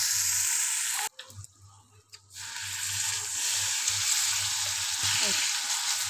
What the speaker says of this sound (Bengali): খুব ভালো করে কষে নিতে হবে যতক্ষণ না কালার চেঞ্জ না হচ্ছে।